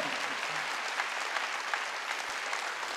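A church congregation clapping during a Korean worship sermon: dense, continuous applause with a steady level throughout and no pauses.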